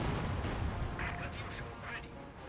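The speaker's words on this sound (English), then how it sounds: "And the Katusha barrage wipes out." A Katyusha rocket artillery barrage in Company of Heroes 2 pounds away in a rumbling series of blasts and crackling impacts, with game voices and a commentator talking over it.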